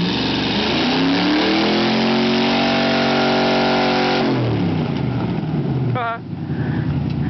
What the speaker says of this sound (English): It just sounds like that because we cut the catalytic converters off.